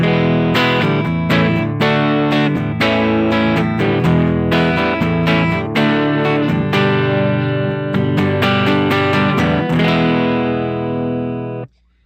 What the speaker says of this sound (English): we're just gonna do some tones with the full-on humbucker mode here